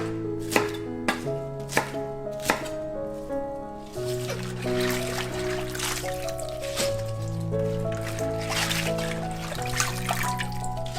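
A knife chops cabbage on a board for kimchi, with several sharp, close cuts early on, then steady chopping under a sustained musical tone and background sounds.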